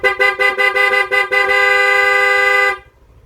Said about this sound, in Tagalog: Loud horn agad tayo, loud horn